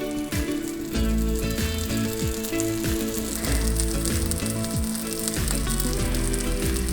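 Tikki patties pan fry in hot oil, giving a steady close crackling sizzle with faint scraping from a spatula.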